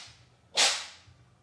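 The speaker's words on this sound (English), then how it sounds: "That was quite the sneeze." A single sharp sneeze bursts out mid-clip, a quick hissy blast that trails off quickly against a quiet background.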